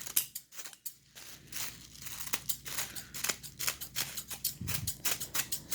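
Scissors snip repeatedly through tissue paper while gift flowers are trimmed, a close, quiet series of crisp cuts in an uneven rhythm, with faint paper crinkling between the snips and no talking.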